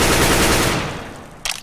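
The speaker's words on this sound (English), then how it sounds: "I'll show you the bullet spread pattern of the AK by holding down the trigger." An AK rifle in the video game SOCOM:GO fires as a loud, continuous automatic burst that quickly fades out, followed by a brief sharp clatter.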